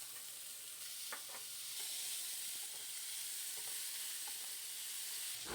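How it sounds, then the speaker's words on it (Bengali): Chopped potatoes fry in hot oil in a kadai, giving a steady soft sizzle with a few light stirring clinks and scrapes, quiet and alone with no talking. "ওর মধ্যে কিছু আলু কুচি ভেজে নেব।"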